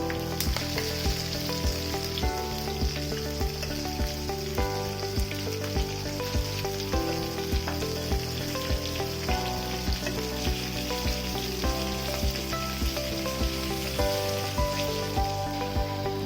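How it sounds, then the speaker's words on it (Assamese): Fish fries in hot oil in a wok for an Assamese sesame fish curry, a steady close sizzle running under continuous background music with no talking. "এতিয়া এখন কেৰাহীত ভালদৰে গৰম কৰি তেল 4 চামুচ দি মাছখিনি ভালদৰে ভাজি"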